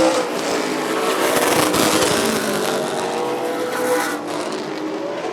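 Race cars on an oval track in an ARCA Midwest Tour heat race at Rockford Speedway, a loud roaring pack of engines sweeping past close by, the roar swelling and then fading slightly.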